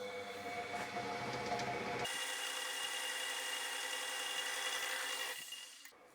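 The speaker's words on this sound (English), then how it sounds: "I'm just going to drill a hole." A stubby power drill whirs steadily as it bores a guide hole into wood, a grinding tone shifting pitch partway through before winding down.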